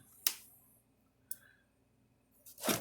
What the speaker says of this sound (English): I can hear it clicking.